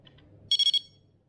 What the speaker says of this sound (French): on a aussi une sonnerie différente en cas de